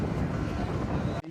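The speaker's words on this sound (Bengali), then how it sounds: "আমরা বোটে উঠে পড়েছি। চারিদিকে শুধু জল আর জল," A boat ride across open water to Paradise Beach in Pondicherry gives a constant roar of engine and rushing wind against the microphone, which cuts off abruptly at the end.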